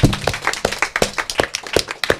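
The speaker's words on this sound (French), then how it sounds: "est-ce qu'on peut s'applaudir mutuellement bien." Panelists and audience at a discussion forum applauding one another, a small group's sparse clapping with distinct individual claps in an uneven rhythm, fairly close.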